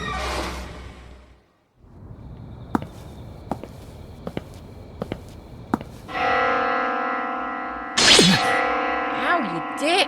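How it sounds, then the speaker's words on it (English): A bell rings in the horror game Spirit Hunter: Death Mark II, a sustained resonant chime entering midway after a series of sharp ticking knocks, with a short voiced exclamation near the end. "Where's that bell sound coming from?"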